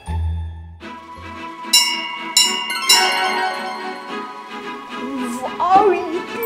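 A magical bell rings in several bright, shimmering chimes and tinkles, loud and close, followed by a whooshing sparkle effect. A voice speaks under the later part.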